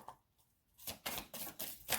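Tarot cards shuffled in several quick bursts of papery riffling after a quiet start, fairly close and moderately loud, with no talking.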